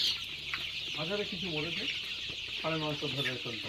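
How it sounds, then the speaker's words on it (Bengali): Sonali hens and chicks cluck in two short runs of throaty, stepped calls nearby, with a faint background hum between them. "এখানে কতগুলো মুরগি আছে বাচ্চা আছে"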